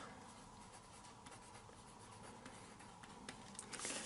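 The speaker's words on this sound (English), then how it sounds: "I'm going to write no seam" A pen writes on a paper face-mask sewing pattern, making a steady, close scratching of continuous strokes with small taps, alone and fairly quiet.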